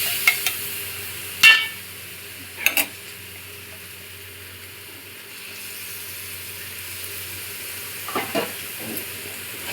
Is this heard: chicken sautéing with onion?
yes